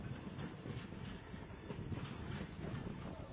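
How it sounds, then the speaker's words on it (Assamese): A freight train rolls over a stretch of track where a fire is burning, giving a steady, distant rumble of moving rail cars with faint clatter. No voices are heard. "কামপুৰৰ পটিয়াপামত জুইৰ ওপৰেৰে চলিল মালবাহী ৰেল"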